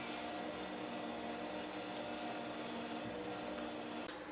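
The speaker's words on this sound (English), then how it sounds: "After the copy, you hear the fans of the thermal copier cooling down the machine" A thermal copier for tattoo stencils runs its cooling fans after a copy, giving a steady, loud broadband whir with a faint high whine and a slight click near the end, no voices.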